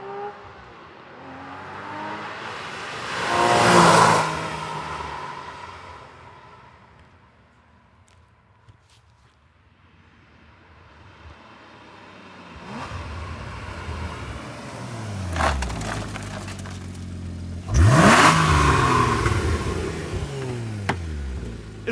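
A Porsche Cayman with its factory exhaust laps a race track, its engine rising to a loud pass-by, fading into the distance, then building again into a second close, roaring pass with a sharp revving sweep.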